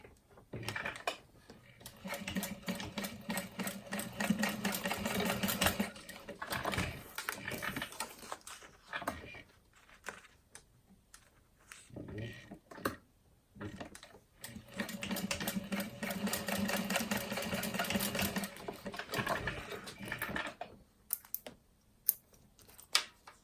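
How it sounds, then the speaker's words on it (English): A sewing machine runs in long steady bursts, top stitching close to the edge of a fabric frame, its rapid needle clatter stopping and restarting several times with short quiet gaps. "And then you're just going to top stitch about 1/8 of an inch from the edge."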